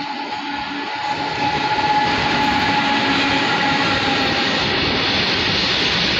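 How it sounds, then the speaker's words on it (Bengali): A goods train rumbles past close by, a loud, steady roar with a faint tonal hum that holds for several seconds with no talking. "এই যে মালগাড়ি যাচ্ছে"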